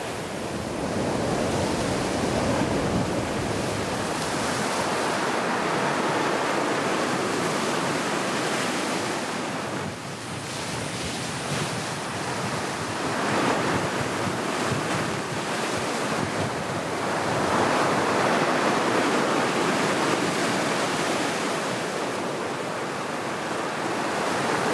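Mediterranean sea waves breaking along the shore, a loud, continuous rushing surf with rolling swells rising and falling, mixed with wind buffeting the microphone.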